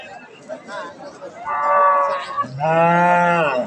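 A large cow at a village cattle market lets out two loud, drawn-out moos, one after the other, with faint crowd murmur beneath.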